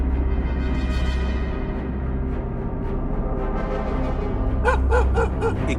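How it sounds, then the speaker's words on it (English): Several hunting dogs bark and bay together in a continuous chorus during a wild boar hunt, over a low rumbling background, with a run of sharper barks near the end. "Ignoring the distracting chorus of barking"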